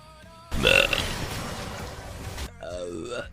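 A long, loud, rasping burp from someone rolls on for about two seconds, starting abruptly and trailing off, followed by brief speech.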